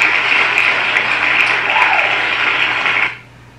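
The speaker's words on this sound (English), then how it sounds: "that subdued applause is what you hear when a winner has been selected" Subdued applause sound effect from an online name-picker spinner announcing a winner, a steady crowd of clapping lasting about three seconds before stopping abruptly, loud and close with no talking.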